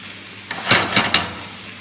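Beef sautéing for tacos in a hot pan, three short bursts of sizzle as the meat is stirred and turned, close and fairly loud over a quiet background.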